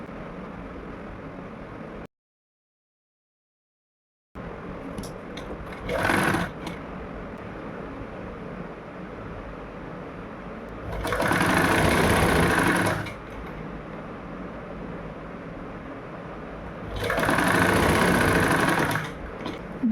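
Electric sewing machine stitching a kurti in short loud bursts, two main runs of steady rapid whirring with a brief blip before them, separated by quieter room noise and a moment of silence near the start.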